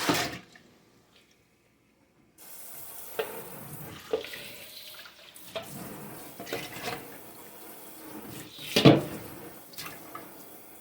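Liquid being poured into a rice cooker pot in a home kitchen while making salmon patties: a brief quiet start, then a running, splashing pour with clinks and handling knocks, loudest near the end.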